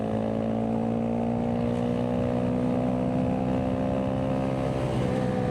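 A Honda Grom 125 motorcycle engine revs hard and holds high, a loud, steady buzzing drone with a rising pitch, heard up close with no voices.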